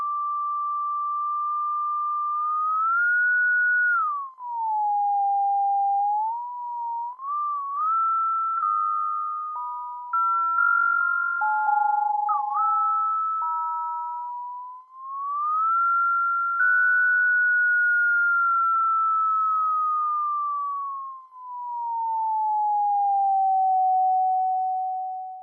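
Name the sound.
sine wave modulated by mouse movement, Unreal Engine 5 MetaSounds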